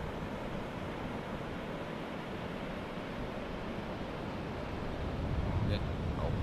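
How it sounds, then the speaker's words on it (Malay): Sea waves slap and wash around an inflatable fishing boat near Paloh Hinai, a constant close rushing wash with wind noise that swells slightly toward the end, while a voice talks faintly underneath. "Ombak ni bahaya ke tu ni."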